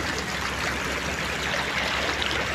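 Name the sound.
shallow river stream flowing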